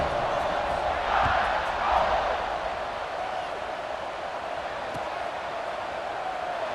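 Stadium crowd roars at kickoff in a college football video game, a broad swelling cheer that peaks early and then settles into a sustained distant roar.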